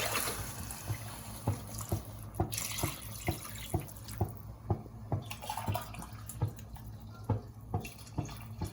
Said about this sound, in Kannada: ಬಿಸಿನೀರು ಹಾಕೋಬೇಕು.